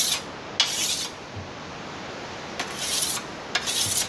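A metal blade drawn across a wet sharpening stone, with several short rasping strokes at close range and quiet pauses between them.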